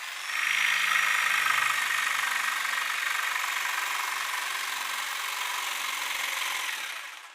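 A circular saw motor for building work runs steadily without cutting, a smooth high whine with an even hum that starts abruptly and holds level for several seconds before cutting off.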